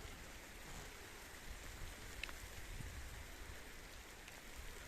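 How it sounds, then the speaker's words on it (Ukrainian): Light drizzle starting to fall outdoors on a hillside field, a steady soft hiss of rain with occasional faint drops, evenly textured and quiet, with no talking. "Дощик починає моросити."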